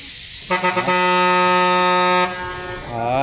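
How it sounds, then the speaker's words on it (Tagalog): A loud vehicle horn gives a few quick toots, then blares in one long continuous blast, followed by another horn swelling in. "May busina ka pa."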